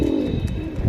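A pair of Lal Chandi Chuithal pigeons coo steadily with a low, continuous murmur, near and moderately loud, with no voices.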